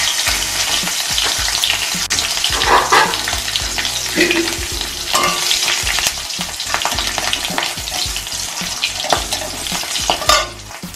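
Nigella seeds and green chillies frying in hot oil to start a rohu fish curry, a loud, dense, continuous sizzle with crackling spatters and occasional stirring scrapes up close.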